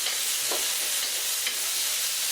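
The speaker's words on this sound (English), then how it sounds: "Give this guy a stir." Mushrooms sizzle and get stirred in a frying pan, a constant loud hiss of frying with a few soft scraping strokes of the spoon.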